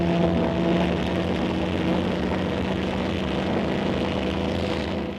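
A model aircraft built for vertical takeoff, shown in a 1930s film, gives a steady, loud mechanical drone with propeller-like hum that holds unbroken throughout, with no voices.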